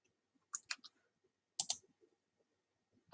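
Computer mouse buttons clicking close by, sharp double clicks in separate pairs spaced about a second apart, quiet room with no talking.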